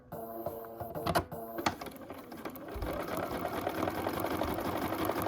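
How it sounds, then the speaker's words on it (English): A sewing machine joins bag fabric pieces, starting with a few clicks and mechanical knocks and then running in a steady, fast whirring stitch, quiet and close by. "we will take this over to the sewing machine and sew this together"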